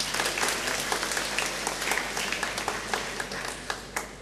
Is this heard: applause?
yes